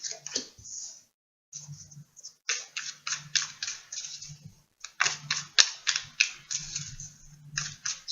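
Close-up shuffling of tarot cards in repeated bursts of rapid, crisp flicking and riffling, with brief pauses between rounds.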